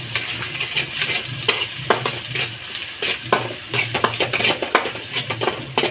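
A spoon stirs an egg fried rice mixture in a hot pan, giving a continuous crackling sizzle with frequent scraping and clinking strokes at an uneven rhythm, close and clear with no voices.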